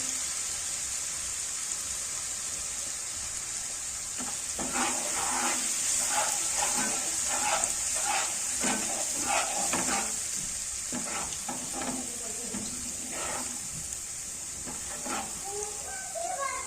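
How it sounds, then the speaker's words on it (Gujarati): Ginger-chilli paste frying in gravy over a medium gas flame, a steady close sizzle with repeated stirring scrapes that start partway in and continue in an uneven rhythm, with no talking. "પહેલા તો છે ને આદુ મરચાંની પેસ્ટ એડ કરી દેશું. ગેસની ફ્લેમ એકદમ મીડિયમ રાખીશું"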